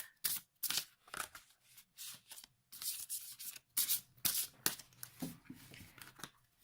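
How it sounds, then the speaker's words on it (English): A deck of tarot cards is shuffled by hand, giving repeated close, crisp riffling and rubbing bursts in an irregular rhythm, alone with no talk. "let's continue shuffling"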